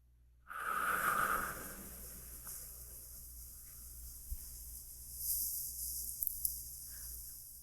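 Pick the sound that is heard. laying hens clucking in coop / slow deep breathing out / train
slow deep breathing out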